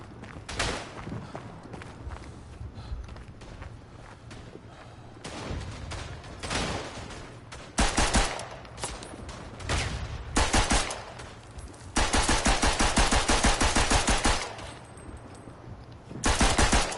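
Bursts of machine pistol fire rattle through a Western Front shooter game fight in and around a fort, with rapid automatic volleys of varying length, some long and sustained, separated by footsteps and quieter gaps.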